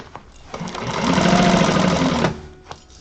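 A sewing machine stitches steadily for about two seconds as its bobbin thread runs low, starting and stopping cleanly with a few faint clicks before and after.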